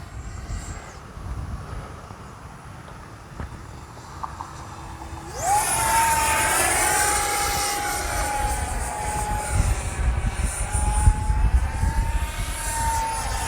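A small jet engine whines up to a high, steady pitch and holds it as an Arrows RC L-39 model jet flies past, rising and falling slightly with distance.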